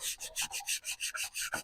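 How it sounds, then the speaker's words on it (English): Sandpaper rubs rhythmically against a carburetor part from a 427 SS Chevelle, about ten quiet, evenly spaced back-and-forth strokes, close and without talking. "Now I just use a little bit of sandpaper."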